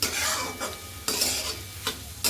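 A banana flower stir-fry is stirred in a pan with a spoon, giving scraping strokes over a steady sizzle, close up with no talk.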